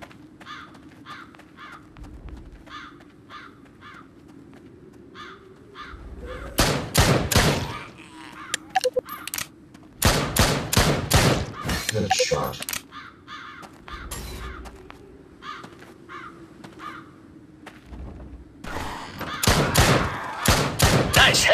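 Gunfire from the zombie shooter game Drop Dead Dual Strike comes in several loud, clustered bursts of rapid shots, split by quieter stretches of a steady, repeating game background.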